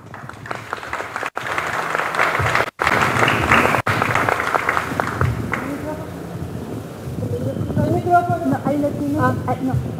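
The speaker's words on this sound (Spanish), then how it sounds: "A quien pido un fuerte aplauso para dar formal inicio." Audience applause at a literary event on Sor Juana and Octavio Paz, sustained clapping from a crowd that fades as a speaker begins talking.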